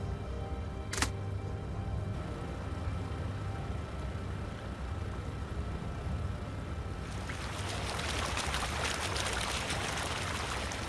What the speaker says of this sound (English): The lever drained the water.